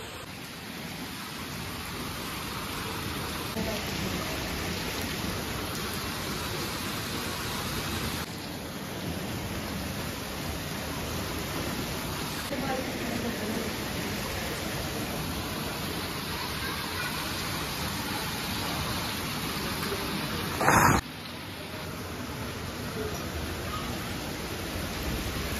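Heavy rain pours steadily over a village, a constant loud hiss of water throughout with a low rumble beneath it and one brief sharp crack near the end.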